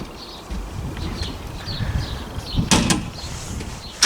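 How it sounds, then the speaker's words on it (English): A vehicle door that does not latch swings and bangs shut, a brief loud clunk and rattle standing out from quieter background noise. "With the lovely door, which doesn't latch"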